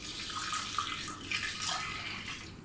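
Water pours steadily into a container for sourdough pizza dough, a soft continuous splashing stream at close range with no talking.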